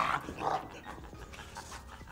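A dog panting close by, quick breathy huffs in an uneven rhythm, with a few soft snuffles and brief whimpering sounds over about two seconds, no talk.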